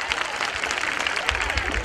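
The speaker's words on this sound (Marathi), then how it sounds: "जोरदार टाळ्या" An audience at a school annual function claps in a brief burst of loud, crowded applause, with a voice speaking over it.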